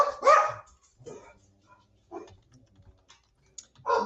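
A dog barks a few times in short bursts, with clicking keyboard taps scattered in between.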